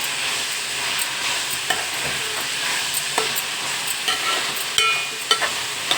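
Raw cashew nut curry frying in a pan while being stirred, a continuous close sizzle broken by irregular scraping and clinking stirs, with no talking.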